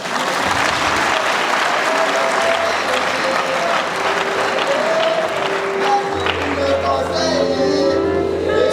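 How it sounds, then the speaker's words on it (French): At an academic degree ceremony in the Congo, an audience applauds steadily for several seconds. The clapping is loud and dense throughout, with a faint tonal hum and a few higher notes underneath. "Sous vos applaudissements"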